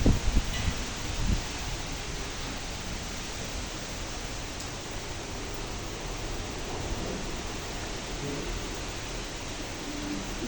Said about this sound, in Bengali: দেখেন বোঝাই যাচ্ছে অনেক শব্দ এবং ঝড় বৃষ্টি হচ্ছে।